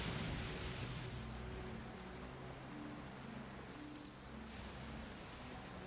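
Steady rain falls in a continuous broadband hiss that fills the whole stretch, with faint music buried far beneath it and no voices.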